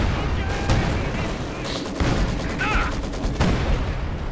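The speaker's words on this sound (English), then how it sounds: "And incendiary artillery going in." Incendiary artillery barrage in Company of Heroes 2, a string of rumbling shell impacts and booming blasts spread over a few seconds, with a commentator talking over the battle.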